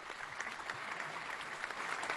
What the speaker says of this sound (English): We've got applause from Kane.